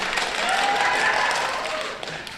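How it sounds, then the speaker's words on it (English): Audience applause at a youth rowing nationals graduation ceremony, a brief wash of many hands clapping together in a hall, fairly loud and fading slightly after two seconds. "you can clap for Connecticut"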